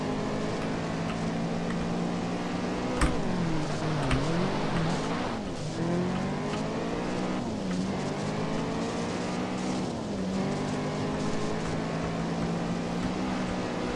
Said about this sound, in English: it has, like, effects of hitting puddles. Like, different amounts of spray as you hit different puddles.